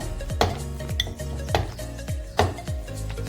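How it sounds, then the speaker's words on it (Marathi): Metal masher knocking against a cooking pot of cooked pav bhaji while crushing salt, with several sharp clanks at a steady pace, close and fairly loud, no voices. "चांगलं शिजलेलं आहे स्मॅशरच्या मदतीने मी मीठ बारीक करून घेते"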